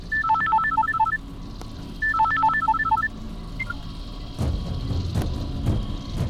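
An electronic phone ringtone plays a quick melodic pattern twice, then stops, followed by clattering background noise.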